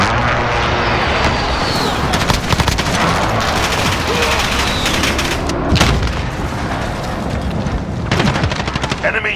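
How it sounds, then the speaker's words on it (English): A precision airstrike in Call of Duty Modern Warfare sets off loud, dense blasts and rattling gunfire, a continuous thundering barrage with sharp peaks, with voices audible under the noise. "Precision airstrike on the way."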